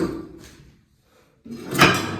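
A door closing in an old apartment left abandoned for 39 years, with a quiet pause, then a fairly loud wooden thud and rattle near the end, close by and with no talk over it.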